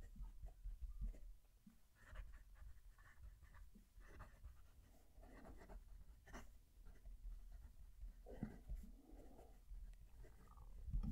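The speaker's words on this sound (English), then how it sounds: "I'll move the mic to the paper so you can hear the pen writing." Soft scratchy strokes of a Moonman M800 fountain pen nib on paper, in short intermittent bursts, close and quiet against a low background rumble.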